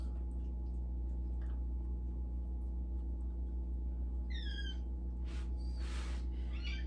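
Two or three short, rising meows from a cat, fairly close, over a steady loud hum of background noise.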